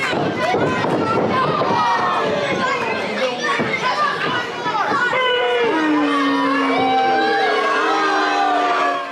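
A wrestling crowd roars and chatters continuously at a live indie show, loud and dense, with shouts and cheers rising throughout and an announcer's voice mixed in.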